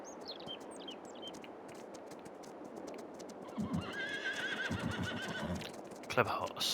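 A horse in the Farming Simulator 22 game whinnies several times, with clip-clop hoof steps and faint bird chirps in the background of a farm scene.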